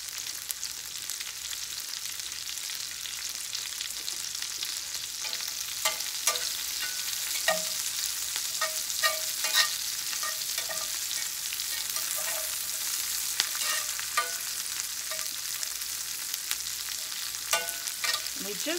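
Green onions and chopped broccoli sautéing in a frying pan, a steady low sizzle throughout with scattered clicks and scrapes of stirring, close and alone with no talking.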